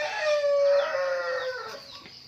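A chicken on a backyard farm gives one loud, drawn-out crowing call, close and clear, with no other sounds around it.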